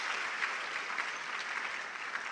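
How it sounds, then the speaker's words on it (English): An indoor audience claps at a university event after a cultural performance, a steady, dense round of applause that continues evenly throughout. "Give them another round of applause, please"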